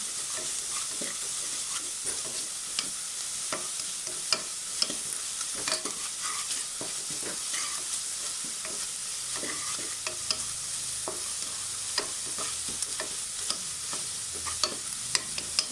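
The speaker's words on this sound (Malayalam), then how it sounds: "മഞ്ഞൾപ്പൊടി ചേർത്തിട്ട് നന്നായിട്ടൊന്ന് വഴട്ടെ." Turmeric and green chillies sauté for kuska biryani in a pressure cooker, giving a constant close hiss of sizzling oil broken by frequent small scrapes and ticks of stirring, with no one speaking.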